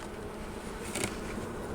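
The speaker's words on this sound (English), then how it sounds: "here's our new bottom full of bees" Honey bees buzzing in a hive box, a dense steady hum of many bees heard up close at low volume without pause.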